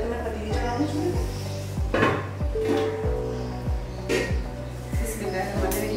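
A cooking pot is set onto a kitchen stove amid a run of sharp metallic clanks and knocks, several clattering impacts spaced through the clip with brief resonant rings, and a voice speaking in between.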